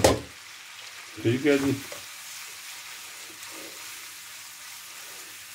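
Spaghetti goes into a pan of scampi with a steady sizzle and frying hiss, a brief stirring clatter rising over it, and someone speaks a few words at the start.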